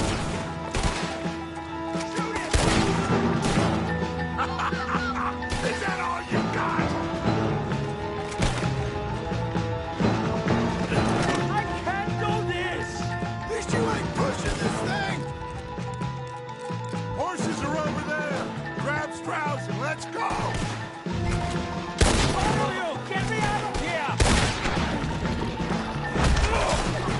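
Dense video game gunfire, with rapid crashes, thuds and shots layered over dramatic music and shouted character dialogue, loud and continuous.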